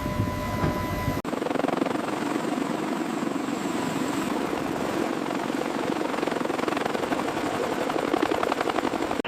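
A CH-53 helicopter lifting off during a military troop deployment, its heavy rotor thudding in a loud, continuous rhythmic roar that fills the whole clip after a brief quieter start, with no talking.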